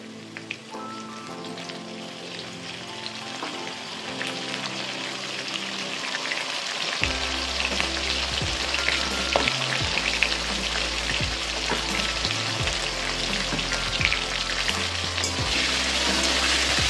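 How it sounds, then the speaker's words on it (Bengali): Potatoes fry in hot oil after ginger paste is stirred in, a steady crackling sizzle lasting the whole time, with sustained tonal background sounds underneath. "আলুগুলো আমার লাল লাল করে ভাজা হয়ে গেছে বন্ধুরা। এবার এর মধ্যে আমি একটু আদা বাটা দিয়ে দিলাম।"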